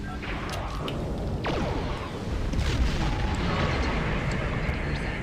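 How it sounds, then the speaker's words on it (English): A Borg ship blows up in a Star Trek video game, a loud rumbling explosion that swells midway and sustains as a dense roar with crackling debris, no talking over it. "Damn Borg ship exploding on me."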